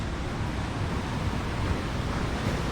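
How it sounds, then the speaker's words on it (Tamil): Sea waves rolling in at night on Varkala beach, a steady, dense roar of surf with some wind buffeting, continuous and fairly loud, no talking. "அலைகள் பார்த்தீங்கன்னா சும்மா அப்படி ஜோராக வந்துக்கிருக்காப்புல."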